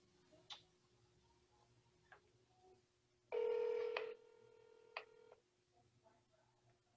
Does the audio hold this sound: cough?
no